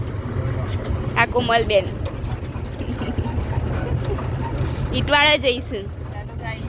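A tractor engine runs steadily during a ride, a low continuous rumble with rattling, close and constant, while people talk over it.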